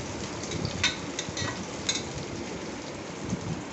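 Large cut onions frying in a pan for chicken gravy, giving a steady moderate sizzle with a few stirring scrapes and sputters, and no talking.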